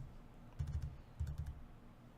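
Two short bursts of computer keyboard typing during a lecture, quick clustered key clicks separated by a pause, fairly faint against a quiet room.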